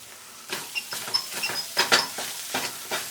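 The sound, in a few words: vegan sofrito sizzling in a pan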